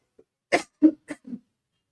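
A few short, dry coughs close by, one after another with brief pauses, then silence.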